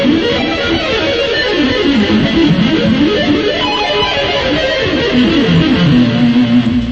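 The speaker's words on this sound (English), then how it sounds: "if I'm doing hammer-ons, a lot of times I'll double up on the first couple notes" Electric guitar plays quick hammered-on licks in rapid groups of notes, steady and close, with no voices.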